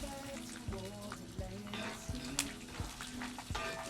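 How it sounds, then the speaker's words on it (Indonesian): Food fries and is stirred in a pan with only a little oil, soft sizzling under repeated scraping and clinking of a utensil against the pan at a steady rhythm, close but fairly quiet. "karena minyaknya dikit jadi harus sambil diaduk-aduk ya"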